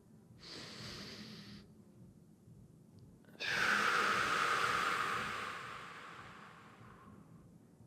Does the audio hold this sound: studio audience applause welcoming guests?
no